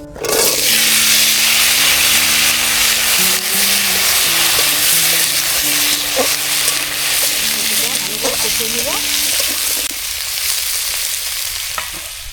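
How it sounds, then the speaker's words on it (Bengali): Cumin seeds and bay leaf hit hot oil left from frying fish and burst into a loud, continuous hissing sizzle with occasional stirring clatter, while voices talk underneath and the sizzle eases slightly near the end. "এবার ওই মাছ ভাজার তেলের পরে ওটা জিরে তেজপাতা দিয়ে দেবো"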